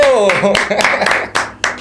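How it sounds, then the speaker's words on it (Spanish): A few sharp handclaps of applause break out as a voice talks, spaced bursts that come close and loud in a room while speech continues around them. "¡Un aplauso!"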